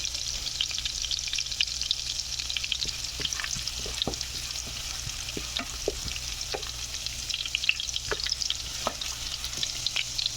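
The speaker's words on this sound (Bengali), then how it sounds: "তেল গরম করে রসুন দিয়ে দিব এবং রসুনগুলো ভালোভাবে নাড়ব" Garlic sizzles in hot oil in a pan while being stirred, a constant bright frying hiss with scattered pops and scraping stirs up close, no voices.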